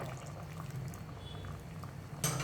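Radish sambar bubbles steadily at a rolling boil in a pressure cooker, with a brief louder hiss of steam or liquid near the end.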